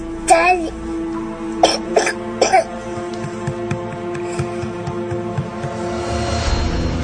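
A few short, sharp coughs sound close by in a quiet interior, in two clusters near the start, followed by low murmuring and faint background room noise.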